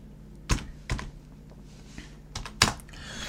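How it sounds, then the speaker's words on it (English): A few keystrokes on a computer keyboard as a stock ticker is typed in, heard as sparse, close clicks with short gaps between them in a quiet room. "So we're going to type this in"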